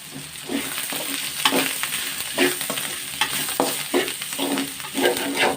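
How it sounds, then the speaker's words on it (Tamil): Onions and coriander leaves sautéing in a pan, with rhythmic spoon scrapes and stirring strokes over a constant hissing sizzle, heard up close. "கூடவே கொஞ்சம் கொத்தமல்லியை போட்டு வதக்கிக்கலாம்."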